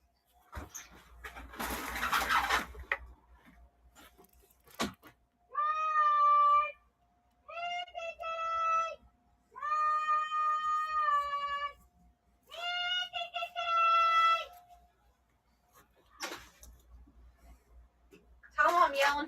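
A cat meows in a series of separate, drawn-out calls, each about a second long, with short pauses between them. The meows are fairly close and clear. Brief noises sound before and after them.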